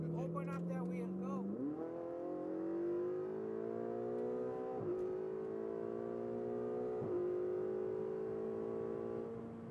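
A Ferrari 488 GTB accelerates hard on a Las Vegas track, its engine note climbing steadily and loud, with two quick upshifts breaking the rise; a voice is briefly heard at the start.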